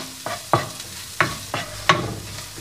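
Coriander and chili powder being stirred as they heat in a pan for a dry chicken dish: a spoon scrapes the pan in about six separate strokes spaced through the moment, under a faint steady hiss with no talking.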